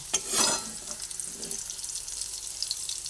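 Hot oil crackles and sizzles steadily in a frying pan, with a brief louder burst of spatter at the start and no talking.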